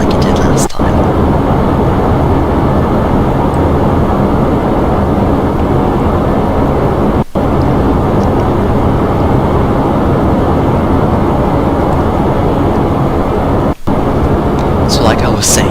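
Kerbal Space Program rocket engine thrusting during a launch to orbit, heard as a loud, steady, dense broadband roar that fills the whole span, broken only by a few brief cutouts.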